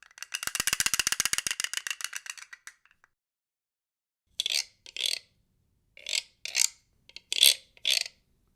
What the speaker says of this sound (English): So a castanet paddle as an instrument can play a beat or a sound effect.